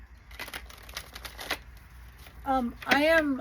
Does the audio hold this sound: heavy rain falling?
no